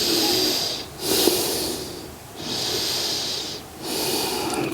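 Slow, deep yoga breaths during a forward fold, three long airy exhales and inhales with short pauses between them, close and clearly audible with no talking.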